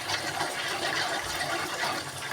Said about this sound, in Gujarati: થોડું પાણી હજી દઈશું. આ નવસેકું ગરમ કરેલું પાણી છે,